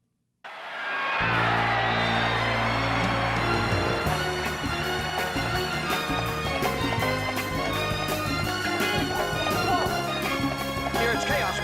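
A packed boxing arena crowd in the film Rocky erupts after the fight, a loud continuous roar of cheering and shouting over a swelling music score, with voices calling out amid the din.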